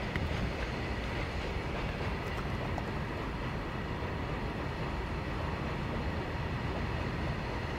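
Train rolling along a railway line near Varanasi, a continuous steady rumble and rattle of wagons that fills the whole stretch at moderate distance, with no voices.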